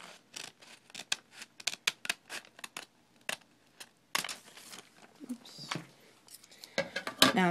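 Scissors snip through glass-etching stencil material in a quiet indoor craft setting, a series of short, crisp cuts at an uneven pace with light crinkling of the sheet, fairly close and soft.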